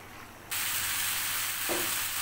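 Salted hilsa fish with bitter gourd frying in a pan, giving a steady broadband sizzle that jumps louder after a quiet start and carries on evenly, with a brief clink near the end.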